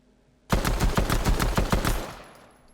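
Rapid burst of pistol fire in the video game Fortnite, about a dozen close, loud shots in quick succession over roughly one and a half seconds, then a short fading tail.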